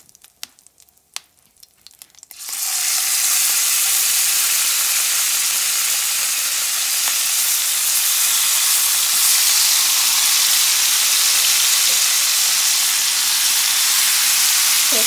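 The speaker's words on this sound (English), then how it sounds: "So now that I've finished frying the fish" Pieces of lemon pepper grey snapper fish fry in a pan over medium heat, giving a loud, continuous, steady sizzle that starts abruptly after a few soft clicks and carries on without a break.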